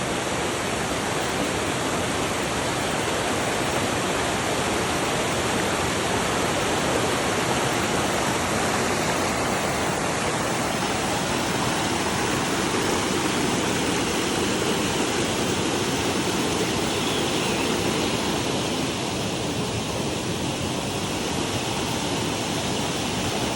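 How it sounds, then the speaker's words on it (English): Water rushes continuously down a stream, a steady loud wash of splashing and hiss that never lets up. "The water flowing way up top."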